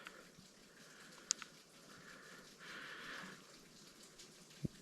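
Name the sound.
water running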